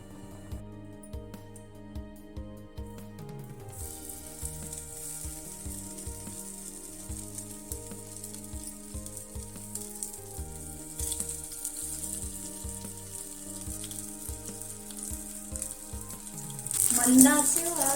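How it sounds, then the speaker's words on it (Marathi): Chicken leg pieces (drumsticks) frying in hot oil in a pan, a steady close sizzle and crackle that holds throughout and swells louder near the end. "आता आपण यात लेग पीस सोडूया."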